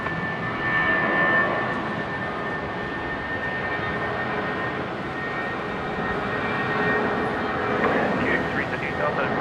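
A jet aircraft on runway 19 right at Brisbane Airport produces a steady, broad roar that holds level throughout, with faint voices underneath.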